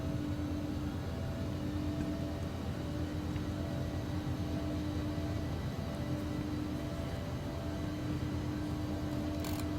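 An Embraer ERJ-145 airliner operated by Loganair taxis at London Heathrow, heard as a steady, unbroken engine drone with a low rumble and a faint sustained whine that holds evenly throughout.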